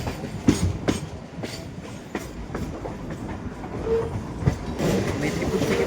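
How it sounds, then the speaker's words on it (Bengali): Medinipur–Howrah local train running along the rails after switching from the main line to a loop line around a curve, steady rumble with rhythmic clickety-clack wheel beats, heard from on board, no talk. "আমাদের ট্রেন এখন মেন লাইন থেকে লুপ লাইনে নেমেছে।"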